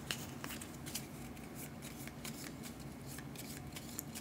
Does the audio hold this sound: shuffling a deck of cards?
yes